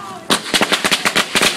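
Fireworks and firework mortars go off in a rapid string of about nine loud, close bangs after a brief quiet moment.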